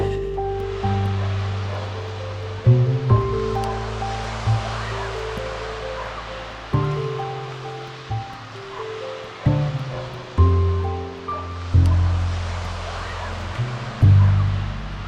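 Surf rolling and breaking on a white sand beach at Achmelvich in Scotland, a steady wash of waves with several louder breakers cresting at intervals, close by and continuous, with some tonal background sound layered over it.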